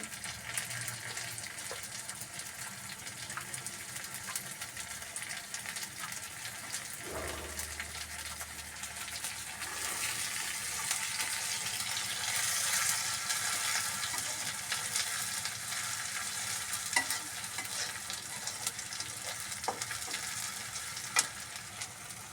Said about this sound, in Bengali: পেঁয়াজটা লাল হওয়া পর্যন্ত ভাজতে থাকবো। দিয়ে দিচ্ছি কাঁচামরিচ কুচি